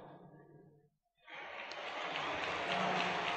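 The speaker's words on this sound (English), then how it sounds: "The applause is for Larry Jackson, who is coming out in that warm-up jacket." Baseball crowd at a Cincinnati Reds–Chicago Cubs game applauding pitcher Larry Jackson, a broad, distant wash of clapping that swells after a brief silence, following a spoken voice at the start.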